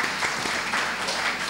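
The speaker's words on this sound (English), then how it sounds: "Let's have a round of applause." A short burst of audience applause at a literature festival panel, steady and full from many hands with no voices over it.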